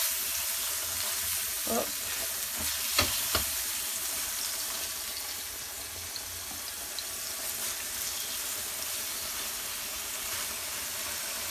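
Food sears in a hot frying pan with a steady, dense sizzle lasting throughout, plus a few brief knocks early on and a short spoken interjection.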